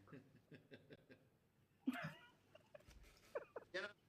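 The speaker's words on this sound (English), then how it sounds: "At least the dog starts barking, poor thing." A dog barks faintly in the distance, a quick run of short yaps followed by a few scattered barks, with soft voices in the background.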